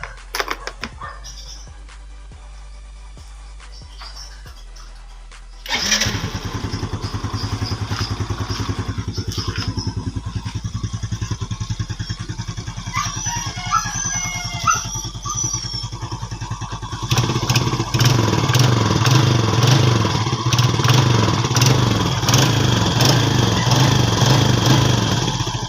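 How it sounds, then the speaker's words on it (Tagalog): A stock Yamaha Sight 115 F.I. motorcycle engine cranks and starts, idles steadily, then revs up louder with a rough, rattling rumble; no talking. "i-sound check ko to sa inyo yung tunog ng motor na to"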